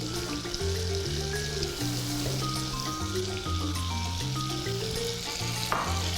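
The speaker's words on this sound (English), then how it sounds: "my butter is melting up nicely" Butter melting in a hot pan, with a steady close sizzle and frying crackle running throughout, under a bed of tonal background music.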